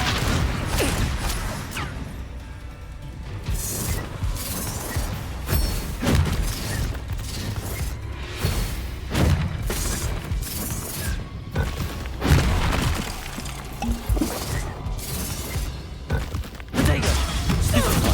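A dense run of booming, crashing blasts from Confringo spells in Hogwarts Legacy keeps the battle loud throughout. Thuds and shattering debris fill the gaps, with no clear speech.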